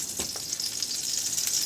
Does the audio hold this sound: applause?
no